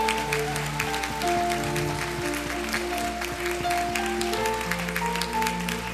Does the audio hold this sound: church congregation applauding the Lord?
yes